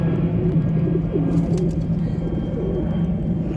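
Pigeons in a loft in Keraniganj coo steadily in low, repeated throbbing calls, close and continuous through the short stretch.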